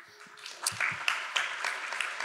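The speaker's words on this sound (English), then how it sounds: "Can we give her another round of applause?" Audience at a franchise ownership event in Weslaco clapping, a scattered round of applause with sharp individual claps rising and falling over a couple of seconds.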